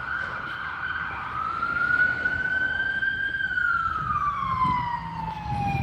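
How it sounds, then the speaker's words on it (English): An ambulance siren wails steadily at a distance, its tone rising slowly then sliding lower, over a low rumble of street traffic in Etowah, Tennessee. "Ambulance."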